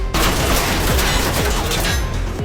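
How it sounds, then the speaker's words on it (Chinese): A loud, sustained burst of rapid gunfire fills a scene from the 2024 zombie apocalypse film Apocalypse Z: The Beginning of the End, shots cracking in quick succession without pause. "一阵枪声过后，外面逐渐安静下来"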